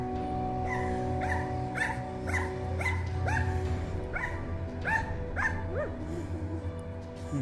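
A neighbour's dog barks excitedly in a steady series of sharp yips, about one every half second, rising in pitch and fairly close, over a constant low hum from the surroundings.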